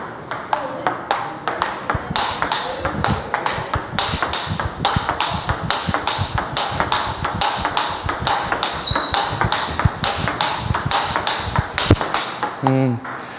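Rapid, steady ticks of a ping-pong ball hit back and forth against a XIOM 36.5 ALXi table tennis racket, dull and close, with a short voice near the end.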